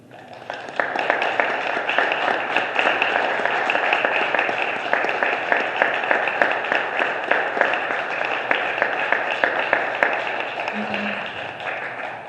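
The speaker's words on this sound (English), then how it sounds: "How about one more round of applause" A crowd applauds steadily for about twelve seconds, dense clapping swelling quickly at the start and holding loud throughout before easing slightly at the end.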